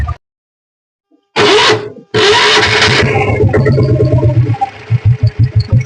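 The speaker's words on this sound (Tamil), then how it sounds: "உங்களுக்கு பெட்ரோல் வண்டி சவுண்டு வருங்க." A petrol Royal Enfield Bullet motorcycle in good condition is self-started with a short whir, catches and settles into a loud, close, thumping idle with an even, pulsing beat.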